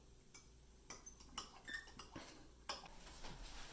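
A spoon stirring chunky tomato sauce for a Roman-style pizza in a bowl or pot, giving a few sharp clinks and scrapes against the dish at irregular intervals over a quiet background.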